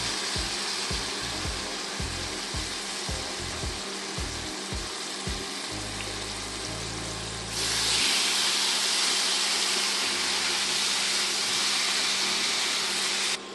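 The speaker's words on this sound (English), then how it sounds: "So our oil is hot. I'm going to go ahead, drop a piece in here." A piece of steak for cheesesteak sliders drops into hot oil in a pan, giving a steady hiss that jumps into a louder, brighter sizzle partway through, with low clanks of handling underneath and no talking.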